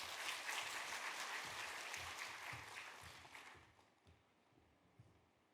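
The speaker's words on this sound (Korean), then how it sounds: "우리 박수로 환영하겠습니다." A church congregation at a Saturday dawn service claps to welcome a visiting evangelist, a full, steady round of applause that gradually thins and fades away, with no voices over it.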